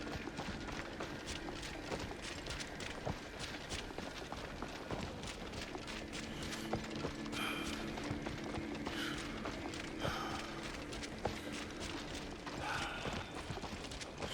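Running footsteps in Assassin's Creed Shadows keep up a quick, even patter for a long stretch, faint and steady amid low game ambience with occasional light clicks and rattles.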